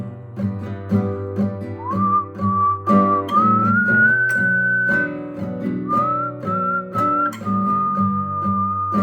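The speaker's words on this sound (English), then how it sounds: "I like the whistling more." Someone whistles a sustained, wavering melody over a backing of strummed guitar chords in drop D tuning, the notes held long and sliding between pitches.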